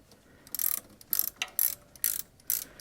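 A ratchet clicks in five quick, close bursts as the idler pulley bolt is snugged on a Toyota 2.2L 5S-FE engine in a Camry during a timing belt job, with short pauses between strokes.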